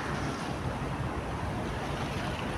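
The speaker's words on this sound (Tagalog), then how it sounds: "Lakas ng alon." Strong waves slosh against a pier at night in a bay, with steady broadband wash and wind noise filling the whole stretch, loud and continuous.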